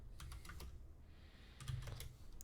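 Quick keypresses on a calculator while entering the lower limit, upper limit, mean and standard deviation for a normal CDF, a run of close, crisp clicks in two bursts with a brief pause between them.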